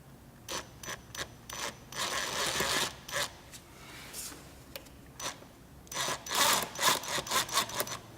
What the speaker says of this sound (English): Use a screwdriver or a 6mm socket with an extension like I'm doing here.